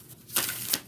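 Tarot cards being shuffled by hand: two quick papery riffle bursts in under a second, close and moderately loud, with no speech.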